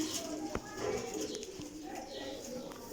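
Teddy breed pigeons coo softly nearby, low rolling calls repeating over a quiet background with a few faint clicks and rustles.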